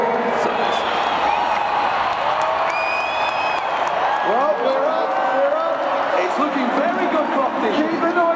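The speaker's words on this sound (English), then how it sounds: "Up on your feet, stamping, clapping, screaming, banging, anything you can just to make a little bit of noise" A crowd cheering, whooping and clapping to urge on a driver attempting a Guinness World Record with 16 people packed into a Land Rover. The noise is loud and continuous, with a voice calling out over it.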